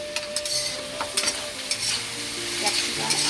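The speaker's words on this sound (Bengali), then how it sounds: "বন্ধুরা মশলার মধ্যে চিকেন দিয়ে দিয়েছি। চিকেনটাকে ভালোভাবে একটু কষিয়ে নেবো।" Chicken pieces fry in a spice masala for chow mein, a steady sizzle with scraping stirs of a spatula against the pan, close and clear with no voices.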